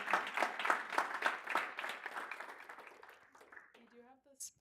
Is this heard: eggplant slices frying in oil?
no